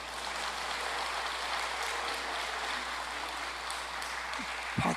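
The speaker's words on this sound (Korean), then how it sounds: "박수도 거지같이 치네. 크게 치지." Congregation clapping during a church's 54th-anniversary thanksgiving service, a soft, even patter of many hands that is fairly faint and continuous, ending with a brief thump.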